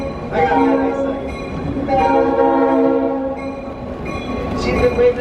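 A Santa Cruz Big Trees railroad train rolls along with a loud, sustained horn blast in several rising and falling stretches over clattering rail noise, heard close from aboard with faint voices in the background.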